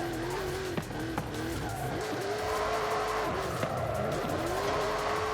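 A custom 6x6 drift truck slides in Forza Horizon 5, its engine holding a steady droning note with rising and falling pitch and a continuous tire hiss, punctuated by a few sharp clicks, with no talking.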